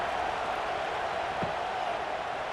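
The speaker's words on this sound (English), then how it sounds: "this crowd is buzzing after that last score." A stadium crowd in the video game College Football 26 keeps up a steady, dense buzz of noise after a touchdown, a continuous wash of far-off voices at an even level.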